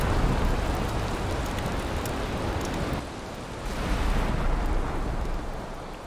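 Steady rain pours in the video game Valheim, a dense, even hiss with a low rumble underneath that dips briefly midway, with no voices.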